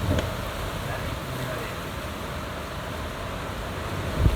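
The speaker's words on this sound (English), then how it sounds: "There's that gust of wind. That is huge. Throwing a bit of dust around too." A strong gust of wind blows in the Blue Mountains, Australia, as broad steady rushing noise that keeps going throughout and swells slightly at the end.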